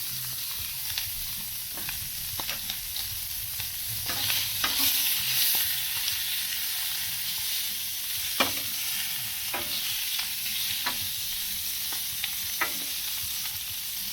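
Clams and sausage cooking on a Blackstone griddle, a continuous bright sizzle with scattered scraping and tapping of a spatula against the flat top.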